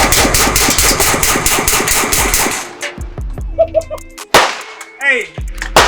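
A Micro Draco pistol fires a rapid, loud string of shots for nearly three seconds, followed by a few scattered bangs and brief voices nearby.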